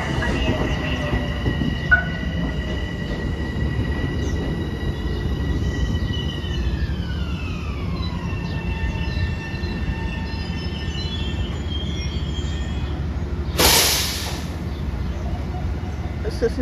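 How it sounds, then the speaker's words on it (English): A commuter train pulls into a station, a steady rumble and rolling noise with a long descending whine as it slows and a brief hiss near the end, with no talk over it. "The 7:56 p.m. train to Grand Central Terminal will arrive on track 4."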